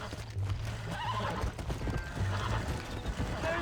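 A feisty horse being tamed in the Red Dead Redemption video game, with repeated whinnies and clip-clopping hooves up close, plus some background voice.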